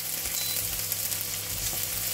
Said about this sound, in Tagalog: Tapos, pag gisa-gisa hanggang mag-kulay-kulay brown na siya.